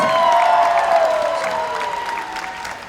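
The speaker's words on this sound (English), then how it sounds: "one more big round of applause for all of our circuit finalists." Big round of applause from a convention crowd at a cosplay competition, loud and steady with a sustained tone ringing over it, gradually easing over three seconds.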